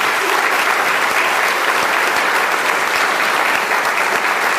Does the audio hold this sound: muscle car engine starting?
no